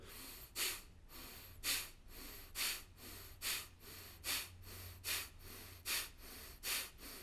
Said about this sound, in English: So negative energy clearing breath of fire.